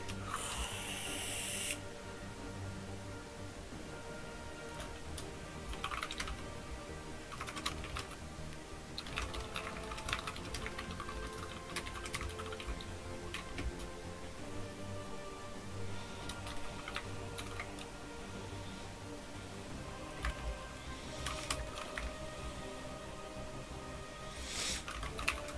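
Rapid computer keyboard typing during a gaming stream, a steady dense clatter of keystrokes running the whole time over a constant background hum, with no talking.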